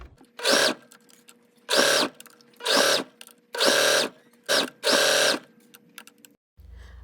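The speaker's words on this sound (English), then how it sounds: "because this is a knit, I ended up using my serger, which I absolutely love" A serger stitches knit fabric for a dress in six loud, close bursts of rapid mechanical whirring. Short pauses separate the runs, and the machine falls silent near the end.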